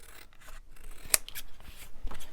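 Scissors snip and rub through paper as a collage tag for a junk journal is trimmed down, giving a few close, crisp cuts and sliding sounds with one sharp click in the middle, no talking.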